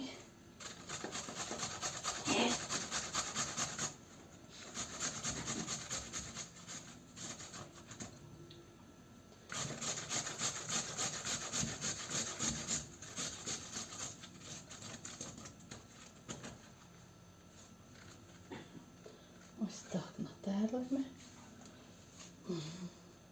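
Peeled apples rubbed against a coarse grater, a continuous rasping scrape repeated in steady strokes with brief pauses, close and fairly quiet, with occasional soft talk and kitchen clatter.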